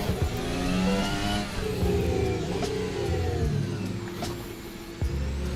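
Car engine in the Assetto Corsa VR racing game, a continuous mid-pitched drone with shifting revs and gear changes, steady and fairly close, with no talking.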